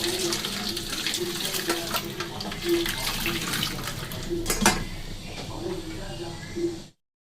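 Tap water runs steadily while freshly made chhana is rinsed and strained, a continuous hissing flow lasting several seconds that stops abruptly at the end; a voice talks over it.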